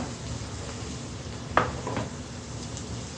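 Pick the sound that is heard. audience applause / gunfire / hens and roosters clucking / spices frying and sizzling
spices frying and sizzling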